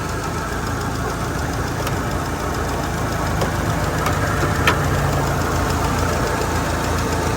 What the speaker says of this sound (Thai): เปิดดูเครื่อง รุ่นนี้เขาเรียกเป็นมิตซูท้ายเบนนะครับ